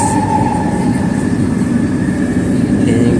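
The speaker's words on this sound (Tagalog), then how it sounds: "Guys, dito tayo sa MRT." Steady low rumble of a moving Manila MRT train from inside the carriage, with constant rolling wheel noise and a faint tonal hum throughout, no talking.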